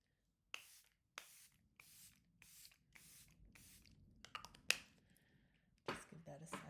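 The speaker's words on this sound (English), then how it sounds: "I'm going to use my Charlotte Tilbury setting spray" Charlotte Tilbury setting spray misted onto a made-up face in a series of about six short, crisp hissing bursts, evenly spaced and close, followed by quieter handling rustles.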